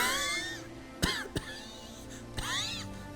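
Two or three sharp coughs, sudden and close, stand out against a steady background of whirring machine and game sound, with a short gap between them and no talking.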